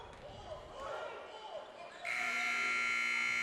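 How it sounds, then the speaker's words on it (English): Basketball game buzzer at a boys' high school game, a loud sustained electronic tone that cuts in partway through over gym crowd noise and announcer chatter. "And at the buzzer, McGee's shot's no good."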